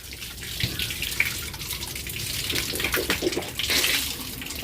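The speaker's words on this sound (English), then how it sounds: "right now I am going to the washroom to wash my hand. I just turn it on." Water pours from a washroom tap as hands are washed beneath it, a steady close rush and splash with small fluctuations, continuous and without speech.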